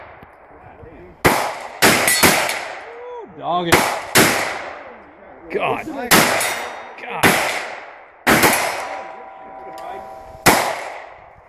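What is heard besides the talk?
AR rifle gunshots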